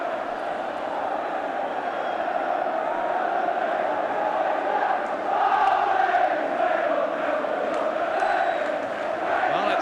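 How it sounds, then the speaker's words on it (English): A football crowd at Elland Road during Leeds United vs Oxford, a steady dense murmur of thousands of fans that swells slightly midway, with no single voice standing out. "that really has got the crowd buzzing now"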